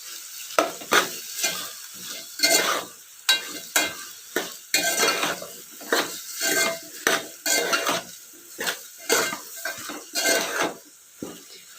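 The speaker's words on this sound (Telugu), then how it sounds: "ఉప్పు వేసుకొని తిప్పుకుందాం" Drumstick curry with onion and oil is stirred in a pan over a gentle sizzle, the spoon scraping in a steady series of close scrapes and clinks, with no talking.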